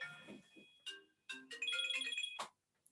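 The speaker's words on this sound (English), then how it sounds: "Oh, and I didn't silence my phone." A mobile phone ringtone goes off in the middle of a technical presentation. It plays a short run of bright, melodic electronic tones, fairly loud and clear, with no talking over it.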